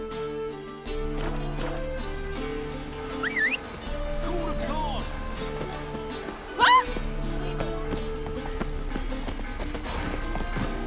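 Horse hooves clip-clopping in The Witcher 3: Wild Hunt, a steady rhythmic trot running under game music, with a voice speaking briefly over it.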